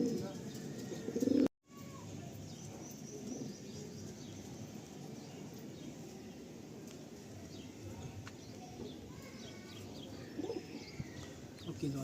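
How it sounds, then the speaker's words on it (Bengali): Black Madrasi pigeons in a loft, soft repeated cooing from several birds at close range over a low steady background hum, with a brief silent dropout near the start. "দেখুন এই হলো 7টা কালো পায়রা ভাইয়ের লফটে।"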